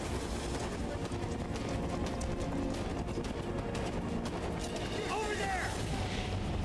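Enemy gunfire in the Final Fantasy VII Remake video game, a dense, steady rattle of shots blended into busy battle noise that runs the whole time without letting up.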